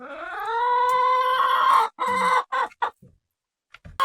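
A rooster and hens in a chicken coop: a long, loud crowing call close by, followed by a few short clucks, with a brief bit of rustling.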